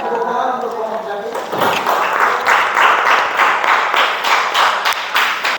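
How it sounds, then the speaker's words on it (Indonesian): A classroom of students gives applause for a student group after a brief spoken line, the clapping loud, close and continuous for several seconds. "boleh tepuk tangan"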